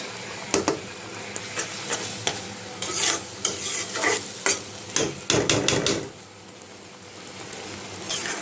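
Spice masala being stirred and sautéed in a pan for a meat curry, with repeated scraping stirs and clatters over a steady sizzle, loud and close, briefly quieter near the end.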